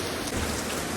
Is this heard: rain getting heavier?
yes